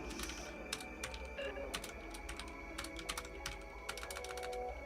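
Rapid keystrokes on a computer keyboard clatter in quick, irregular bursts, faint and fairly close, over a constant low hum.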